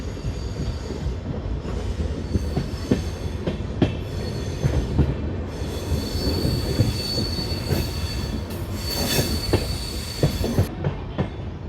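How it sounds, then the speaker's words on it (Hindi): The 12482 Shri Ganganagar–Delhi Intercity express running on the rails, with a loud continuous rumble, wheel clatter and high squealing that rise and fall, heard from on board with no voices. "सबसे तेज़ यही ट्रेन है जो आपको श्री गंगानगर टू बठिंडा दिल्ली तक पहुंचाएगी"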